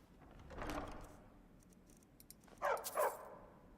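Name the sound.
dog barking in Skyrim video game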